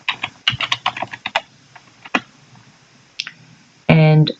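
Fingers tap a computer keyboard, typing a web address into a browser in a rapid, uneven run of close clicks followed by a few slower presses, ending with a brief tonal beep.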